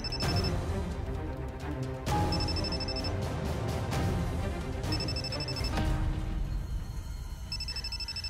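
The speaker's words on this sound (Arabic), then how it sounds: "ولساته عم يرن موبايلها" A mobile phone rings repeatedly in a drama scene. Short electronic chime bursts recur at regular intervals over a dense, steady background of music and room noise, with no talk over it.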